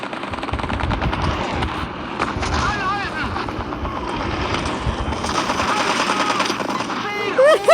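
Rapid 30 mm autocannon fire in a tank video game, dense rattling bursts running throughout at close, loud level, with a voice talking over parts of it.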